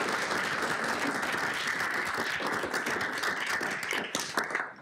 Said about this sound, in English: We want to give Marcie a big round of applause.